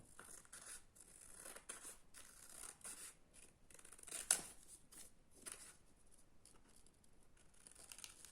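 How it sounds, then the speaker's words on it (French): Scissors cutting out a paper shape, a series of crisp snips and paper rustles in an uneven rhythm, close and quiet, with one sharper cut standing out midway. "Une paire de ciseaux et on va découper la forme."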